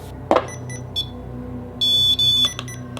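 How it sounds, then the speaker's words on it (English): A REM pod ghost-hunting device sounds its alarm in a quiet room: short electronic beeps and chirps, then a sustained, loud, tonal bleep pattern, with a brief knock early on. "The REM pod is on."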